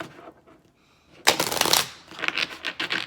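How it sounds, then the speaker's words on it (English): A deck of romance angel oracle cards is shuffled up close, a loud riffling burst followed by a few shorter flicks of the cards, after a quiet start. "I'm going to pull the romance angel cards"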